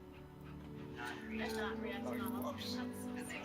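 A dog in the video game That Dragon, Cancer pants and whimpers softly, faint and continuous under a game soundtrack and talk.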